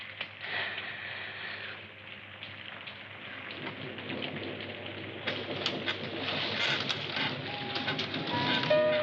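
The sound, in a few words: rain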